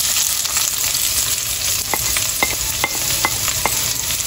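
Garlic and white onion fry in hot oil in a pan for pork adobo. A loud, continuous sizzle carries sharp clicks and crackles from stirring or spattering that recur through the later seconds.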